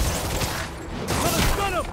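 Rapid gunfire bursts in the video game Marvel's Spider-Man, a dense crackling fusillade mixed with game effects and a voice calling out.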